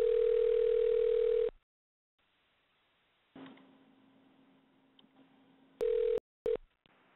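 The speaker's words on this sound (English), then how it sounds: "Sounds like the phone's ringing." Telephone line signals heard during a call: a loud steady tone that cuts off, a quieter buzzing tone, then two short repeated tone bursts, with silence between.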